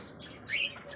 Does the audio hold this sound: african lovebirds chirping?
yes